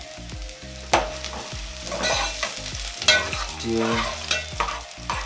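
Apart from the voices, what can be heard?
onions frying in oil for githeri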